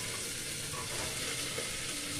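Potato pieces sizzle and fry in hot oil tempered with cumin and asafoetida for a potato-tomato curry, a steady broadband crackle close up, stirred now and then, with no talk.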